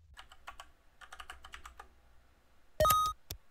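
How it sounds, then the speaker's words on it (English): Rapid typing on a loud computer keyboard, a run of close, crisp key clicks followed by a sharper burst of clacks near the end, with no talk. "I got a loud keyboard"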